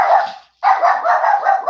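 Dogs barking nearby, loud repeated barks in two bursts separated by a brief silent gap, with no talk over them.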